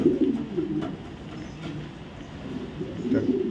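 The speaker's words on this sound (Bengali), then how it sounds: "একদম ডাউন শেপের একটা মাদি কবুতর" A female racing pigeon gives low, throaty coos, a rolling burst at the start and another near the end, with a quieter murmur between them over a soft room background.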